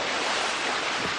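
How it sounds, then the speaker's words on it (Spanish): Water splashes and sloshes in a swimming pool beside a tennis court, a broad, continuous rushing wash that holds at an even level with no voices. "¿No es un chapoteo? Pues claro que sí. Eso viene de la piscina."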